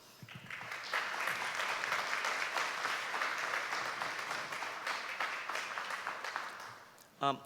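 Sustained audience applause fills a conference hall at the 2018 Asia-Pacific Philanthropy Summit panel, swelling quickly and holding steady for several seconds before a brief louder burst at the end.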